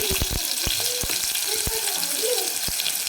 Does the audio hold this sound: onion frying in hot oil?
yes